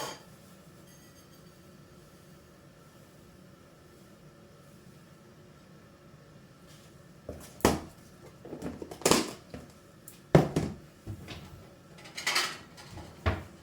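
Plates and kitchenware clink and knock on a counter while breading is set out for homemade cordon bleu cutlets, with a quiet stretch first and then a cluster of sharp, close clatters.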